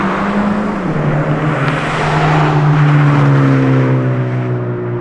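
A Toyota GT86 with a Remark axleback exhaust drones loud and raspy steadily, its pitch rising as the engine revs up, close by with no talking.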